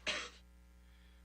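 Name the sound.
cough played for a guessing game, second of two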